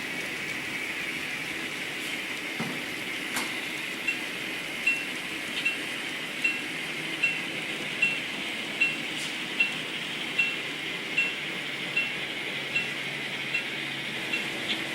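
An N scale model train runs on a club layout, making faint, evenly spaced rail clicks that repeat steadily over a quiet background hum.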